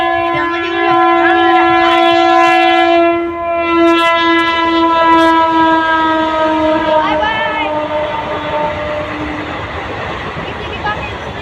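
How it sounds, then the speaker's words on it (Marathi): A train passes close by while its horn blasts loudly for several seconds and then fades under the rumble of wheels. The train keeps passing as the horn tails off. "इथं जरा आपलं ट्रेन येणार आहे त्यामुळे थांबलो."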